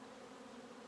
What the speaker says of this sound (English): I want the bees that are flying to fly. I want them to fly off.